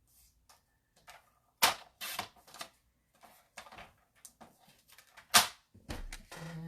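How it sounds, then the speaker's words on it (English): Patterned designer paper is trimmed with a paper trimmer: scattered sharp clicks and swishes of the blade, several louder snaps, close and fairly quiet, with no talk. "Let me just trim it down so that I can put it through the cut and emboss machine"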